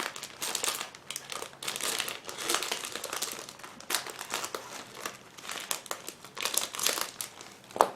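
Plastic packaging crinkles and rustles continuously, close up, with irregular bursts of crackling as a plastic bag of model kit sprues is handled and pulled open.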